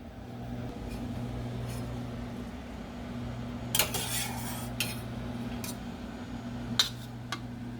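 Pork meatballs transferred into a bowl with a utensil, giving a handful of brief metallic clinks and scrapes over a steady low hum of kitchen background noise.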